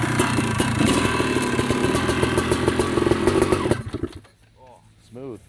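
A 1989 Honda CR500R big bore two-stroke motorcycle runs loud and close with a rough, crackling idle, then the engine cuts off abruptly and a voice speaks in the quiet afterward.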